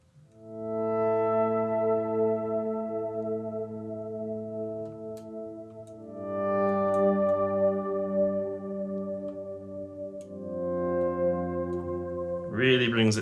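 A sustained Uno LX synthesizer tone with rich harmonics plays in long held notes, drenched in reverb, changing pitch a few times before a brief rising sweep at the end.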